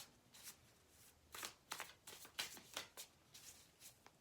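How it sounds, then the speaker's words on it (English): Half of a large deck of about 117 tarot cards being riffle shuffled up close, a series of quiet, crisp ruffling bursts with short gaps between them. "riffle shuffle the first half"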